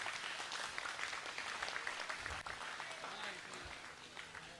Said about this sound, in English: Bruce wants a round of applause for all these best of breed winners today.